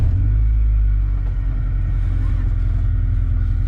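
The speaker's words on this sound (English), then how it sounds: "All right, let's see how she runs." A Honda Civic EJ2 fitted with a B18B1 engine idles close by, a loud, steady low rumble with even engine hum and no voices over it.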